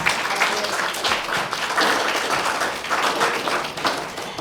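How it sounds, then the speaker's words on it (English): A room full of people at a Chula Vista City Council District 4 candidate forum applauds steadily, a dense, even wash of clapping that holds at full strength for several seconds. "Okay, now you can applaud for the candidates for showing up today."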